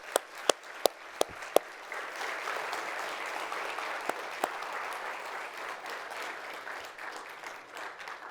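A church congregation applauds during an evening service, a few sharp early claps swelling into a steady, dense round of clapping that holds evenly for several seconds.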